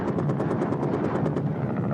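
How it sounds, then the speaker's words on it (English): A Tiger twin-engine attack helicopter hammers close by, its rotor thumping in a steady rapid pulse over a dense, constant turbine roar. "This is the Tiger, Europe's answer to the Apache. It's a dual-engine helicopter with immense power and unbelievable agility."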